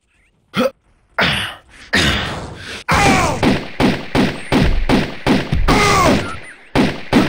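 Pistol shots in Turok 2: Seeds of Evil Remastered, a string of loud, close single shots at a steady pace with sharp, echoing tails.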